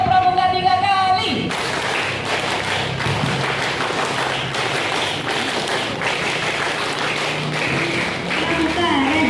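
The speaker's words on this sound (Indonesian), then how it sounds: "Tepuk pramuka 3 kali" Pramuka scouts at a school ceremony for the 61st Scout Day, clapping the rhythmic scout clap in unison. Dense, steady patter fills the whole stretch after an opening burst of voices.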